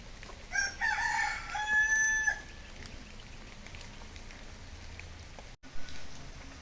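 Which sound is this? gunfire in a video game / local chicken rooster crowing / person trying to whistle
local chicken rooster crowing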